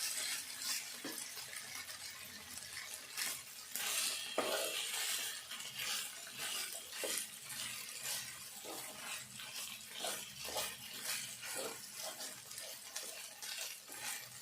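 Poha (flattened rice) being stirred as it fries in oil, giving a steady wet hiss with a scatter of soft scraping strokes, close and continuous with no voices.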